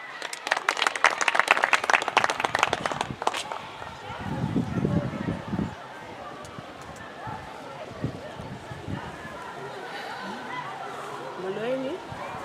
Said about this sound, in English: Can we clap hands for her?